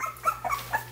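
Three-week-old puppies whimper in several short, high yips and whines, close by and fairly faint over a low steady hum.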